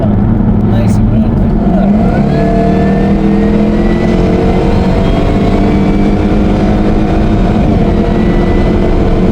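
A supercharged Jaguar F-Type SVR with a Harrop supercharger, tuned to 688 bhp, accelerates hard, its engine note rising and droning steadily from inside the car while people talk over it.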